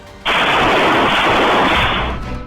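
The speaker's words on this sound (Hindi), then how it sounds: "गोलियों की तड़तड़ाहट यहां गूंज उठी।" Rapid gunfire rattles out during a police encounter with two shooters: one loud, continuous burst lasting about two seconds before fading slightly at the end.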